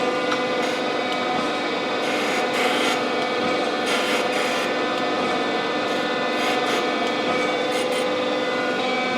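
A Monarch 10EE lathe cutting metal on a saddle part, giving a steady, continuous rasping scrape with a constant machine hum underneath and brief brighter flurries along the way.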